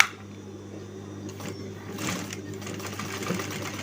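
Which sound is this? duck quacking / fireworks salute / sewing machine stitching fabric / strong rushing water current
sewing machine stitching fabric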